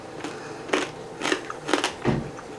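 Crunchy pork crackling with the rind still on is bitten and chewed close up, several sharp crunching bites arriving in an uneven rhythm with no voices over them.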